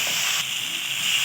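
Soft, steady sizzle and hiss of garlic and ground coriander frying in oil for a village-style fish curry, close and continuous over a short moment, no voices.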